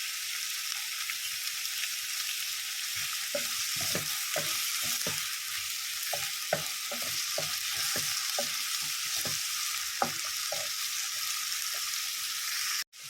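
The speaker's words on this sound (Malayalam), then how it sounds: "ഇനി ഒന്ന് വഴറ്റാം നല്ലതുപോലെ വഴറ്റിയെടുക്കാം" Sliced onions with a pinch of salt sauté in a pan for a mushroom masala curry: a constant soft hiss broken by repeated scraping strokes of a stirring spoon, with no talking.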